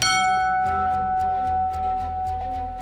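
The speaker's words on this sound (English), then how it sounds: "Yours truly has the privilege of ringing the scramble bell today." A scramble bell at a Battle of Britain airfield rings out in rapid repeated metallic strikes, loud and close, with a sustained bright ringing tone that lingers between the clangs.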